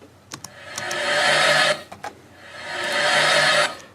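Repeating audio passage in Logic 9 with a fade-in effect, a rasping, scraping texture swelling gradually from soft to loud twice, broken by a few short sharp clicks between swells, with no talking.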